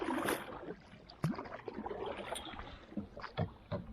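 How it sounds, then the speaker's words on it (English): A kayak paddle dips and pulls through water in a quiet outdoor setting, giving faint, irregular splashes and drips at close range with soft wind in the background. "and we're back paddling."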